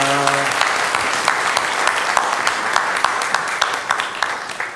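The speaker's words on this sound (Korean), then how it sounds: "영광의 박수를 우리 하나님께 올려드리겠습니다." A church congregation at a Sunday morning service breaks into loud, sustained applause after a brief sung or spoken tone at the start, with crisp individual claps audible in the steady wash.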